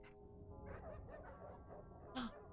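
Dogs barking behind a locked door in a video game: a few muffled barks and yips through the middle, then a sharper whimpering yelp near the end, heard faintly and at a distance.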